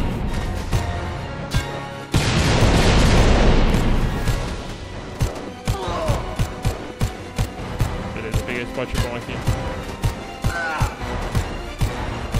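Rapid minigun fire in the Dead Rising 4 video game, a loud burst followed by a long run of sharp, regular shots with game effects and a voice talking.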